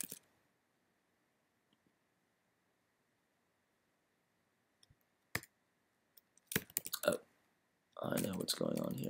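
Computer keyboard typing comes in a few sparse, quiet bursts of clicks after a long near-silence, followed by a stretch of speech at the end.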